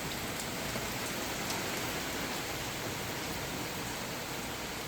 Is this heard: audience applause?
no